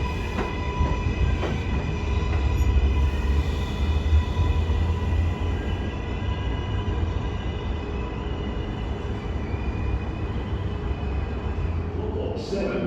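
An R188 7 line subway train rumbles steadily at 33rd Street-Rawson Street station during the morning rush, a continuous low roar with wheel noise and a faint screech near the end, mixed with platform ambience.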